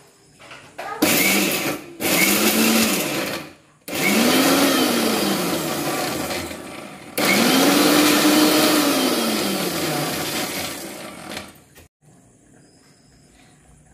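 A mixer grinder crushing onion, cumin, curry leaves and turmeric runs in several loud whirring pulses of a few seconds each, its motor pitch rising and falling with short pauses between bursts.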